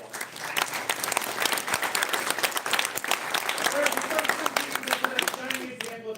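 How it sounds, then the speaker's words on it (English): An audience at a field hockey event breaks into steady applause, many hands clapping in a dense, continuous patter at moderate distance, with a voice speaking over it near the end. "you give them a round of applause."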